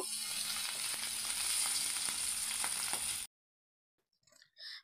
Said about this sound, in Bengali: তেল গরম হয়ে গেলে আমরা এর মধ্যে এক এক করে মাছগুলোকে ভেজে নিব